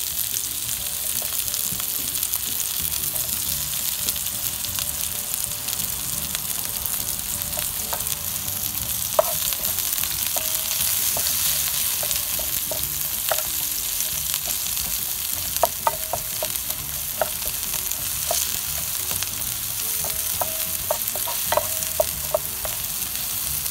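Onion fries in a pan for sweet and sour tuyo, a steady, close sizzle with occasional sharp clicks from stirring, and no talking.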